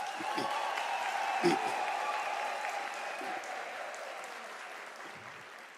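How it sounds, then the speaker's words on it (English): Graduates applaud at a University of South Africa autumn graduation ceremony, a broad, even round of clapping filling a large hall that peaks early and slowly fades over several seconds. "Can you give yourself a round of applause?"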